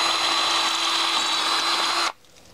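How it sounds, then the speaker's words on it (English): A masonry drill bit bores through brick mortar for a radio dog fence cable, a loud steady high-pitched whine running continuously for about two seconds before stopping abruptly. "Here I'll use the masonry drill bit to go in through the mortar."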